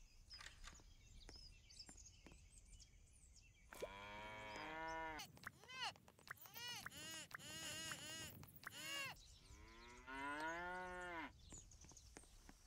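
Cows in the Roblox farming game Farmstead moo in several long, loud, drawn-out calls one after another, separated by short quiet gaps with faint clicks.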